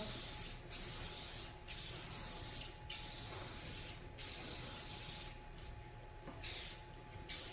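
Aerosol spray paint hisses in short bursts as a light coat goes onto a 2018 Toyota Sequoia, about six close steady sprays with brief pauses between, no talking.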